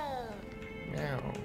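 A cat meowing in Hogwarts Legacy: one drawn-out, falling meow up close, then a shorter rising second call, loud and clear over quiet game ambience.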